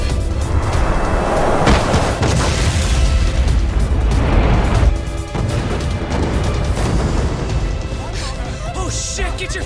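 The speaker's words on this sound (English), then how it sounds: "This ship just exploded!" A ship exploding in the video game Lost Judgment, heavy booms and crashing rumble rolling through a loud, dense mix of game sound, with voices talking over it.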